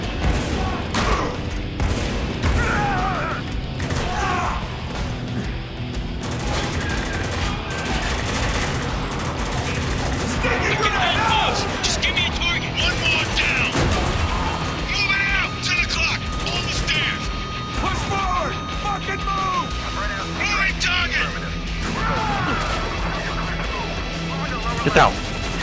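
Sustained automatic gunfire fills a firefight in Spec Ops: The Line, with dense bursts, impacts and crashes continuing throughout while soldiers shout over the shooting.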